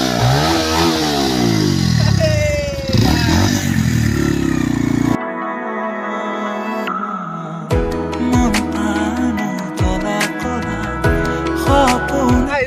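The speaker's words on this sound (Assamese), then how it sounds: "আপোনালোকে এবাৰ একজছৰ চাউণ্ডটো শুনিব দেই" A motorcycle exhaust revs loudly up close, rising and falling engine tones followed by a throbbing idle with sharp repeated pops, no talking heard.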